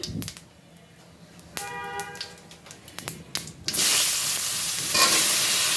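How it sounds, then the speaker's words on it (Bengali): Cumin seeds hit hot oil left from frying fish, for a potato fish curry. Quiet clinks and stirring open the clip, then a sudden loud sizzle bursts up and carries on to the end. "মাছ ভাজা তেলে দিয়ে দিলাম জিরা ফোড়ন"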